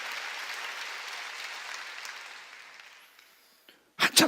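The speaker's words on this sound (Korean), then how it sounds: "박수로 하나님께 영광 돌리라는 거야" Congregation applause during a Korean church sermon, broad steady clapping that slowly fades away over a few seconds, then a brief pause before a couple of sharp, louder bursts at the end.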